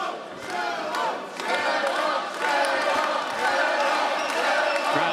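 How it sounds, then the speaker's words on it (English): A crowd at a mixed martial arts fight gala chants and cheers for a fighter, a loud, rhythmic roar of many voices filling the arena. "Crowd chanting Jerome."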